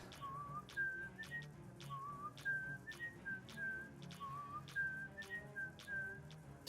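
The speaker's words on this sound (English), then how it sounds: "It's funny that the muffin whistles when it walks" Muffin character in the video game Phobies whistles as it walks, a bright repeating melodic whistle in short phrases over a steady low game background hum.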